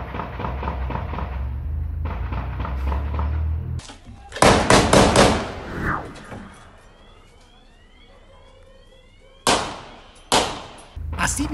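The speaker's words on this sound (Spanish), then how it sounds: "momentos de zozobra por un intenso enfrentamiento a balazos entre fuerzas de élite estatales y miembros de la delincuencia organizada" Sharp gunfire bursts from an intense armed clash between state elite forces and organized crime gunmen in Cerritos, San Luis Potosí, Mexico, several loud reports standing out over steady background noise with a siren-like wail and voices between.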